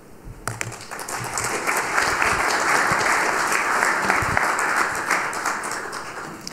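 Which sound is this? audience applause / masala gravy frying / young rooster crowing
audience applause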